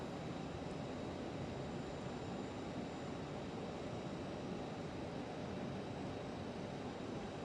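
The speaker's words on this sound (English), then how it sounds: "I'm just trying to watch the engine start here." An aircraft engine in a flight simulator game runs as a steady, even drone with a constant broadband roar and no change in pitch or level.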